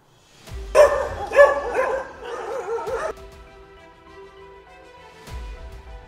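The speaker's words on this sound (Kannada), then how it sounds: "ಬೆಂಗಳೂರಿನ ಗಲ್ಲಿಯಲ್ಲೂ ಬೀದಿ ನಾಯಿಗಳ ಕಾಟ ಮಿತಿ ಮೀರಿದೆ." Stray dogs on a Bengaluru street let out a few loud, close barks and yips in quick succession, then fall to a fainter whimper and one last bark.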